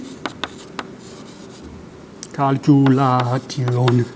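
Marker or chalk writing on a board during a lecture, a few short scratchy strokes early on, then someone talking over the quieter writing sounds.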